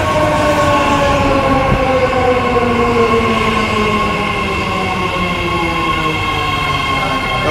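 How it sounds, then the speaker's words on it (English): A new six-car BART Fleet of the Future Orange Line train to Warm Springs passes Bayfair Station platform one, a loud, steady rumble of rail cars rolling past with shifting wheel and motor whine and no talk. "That was the 837 train, by the way."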